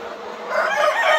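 Classic-breed pullet hens about 150 days old, white and golden, just starting to lay, cluck and call continuously at close range, the flock growing a little louder partway through.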